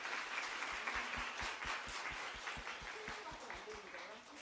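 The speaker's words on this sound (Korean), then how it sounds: "感謝の拍手を捧げます。" A church congregation at a Japanese-Korean youth Sunday worship service gives a warm round of thanks, with sustained crowd applause and faint musical tones running beneath it.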